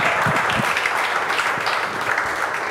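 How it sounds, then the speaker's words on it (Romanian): Studio audience at a Romanian comedy TV show applauds for Tudor, a steady, dense wash of clapping filling the whole stretch at even loudness, with no talk over it. "hai, aplauze pentru Tudor"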